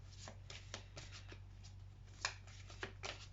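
Tarot cards are shuffled and one is drawn from the deck, giving soft close papery flicks and slides in a quick irregular run, quiet over a low background hum.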